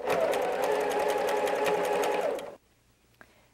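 A domestic sewing machine runs steadily, stitching quilt seams up to a pin, a continuous close whirring for about two and a half seconds that then stops, followed by near silence and a brief small click.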